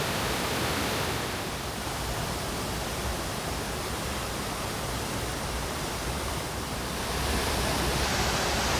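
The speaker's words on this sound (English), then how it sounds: "Water from the waterfall is just spitting everywhere" Water from a waterfall in Bali sprays and crashes nearby, a loud steady broadband roar with no breaks, slightly swelling toward the end.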